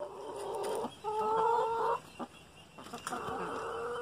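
Chickens cluck and squawk close by while being fed, in a few bursts of excited calls separated by short quieter gaps.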